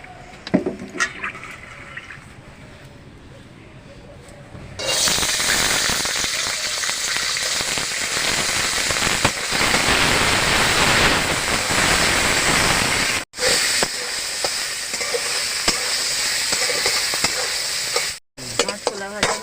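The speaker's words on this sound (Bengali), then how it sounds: "গোটা ছোলা আর সামান্য ভেজে নেব" Soaked whole chickpeas fry briefly in refined white oil. After a quieter opening, a loud, close, continuous sizzling hiss begins and holds steady, cut by two brief silent gaps.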